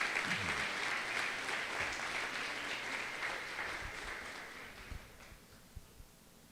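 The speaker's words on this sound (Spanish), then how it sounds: "denle un aplauso a nuestro rey" A church congregation at a Sunday service applauds. The dense clapping holds steady for about five seconds, then dies away to a few scattered claps and quiet.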